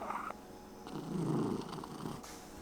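Raspy, rumbling labored breathing from a sick cat, a low rattling swell that rises and fades over a couple of seconds, close and fairly quiet.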